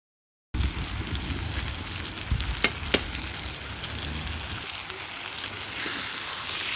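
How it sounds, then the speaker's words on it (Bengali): Tomatoes sautéing in an oil-filled pan for a fish and eggplant curry, a steady close sizzle and crackle with a few sharp utensil scrapes and clicks against the pan, no talking. "এই টমেটোগুলাকে আমি একটু ভালো করে কষিয়ে নিব।"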